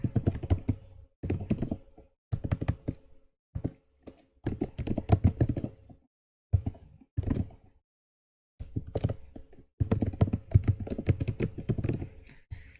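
Typing on a computer keyboard, with close, clicky keystrokes in short irregular bursts separated by brief pauses, and no voices.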